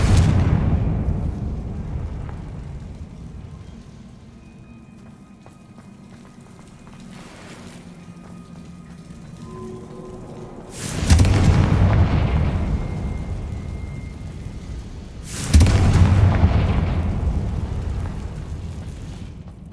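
Explosive spell detonations in Hogwarts Legacy, two big booming blasts a few seconds apart, each bursting loudly and then rumbling away, heard over a low ambient background with no one talking.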